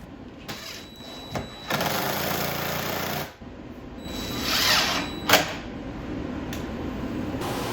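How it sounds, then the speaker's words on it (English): A power drill bores pilot holes through a speaker faceplate held in place with tape. It runs in several short bursts of whirring, with pauses and a few clicks between them, close and fairly loud. "I align the faceplate with tape so I can pre-drill and set the screws."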